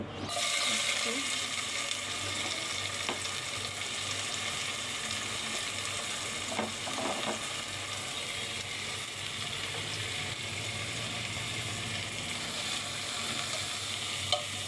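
Chopped onion frying in cooking oil in a pan for a chicken mash dish, a steady dense sizzle holding close and loud throughout, with a few faint clinks of stirring.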